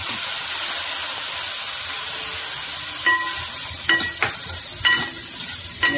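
Salted fish curry with aubergine sautéing in a pan, a steady close sizzle and hiss with a few sharp scraping stirs of a spoon near the end.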